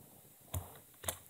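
Two soft, distinct clicks of computer keyboard keys being pressed for a shortcut combination, such as one using Alt, about half a second apart in a quiet room.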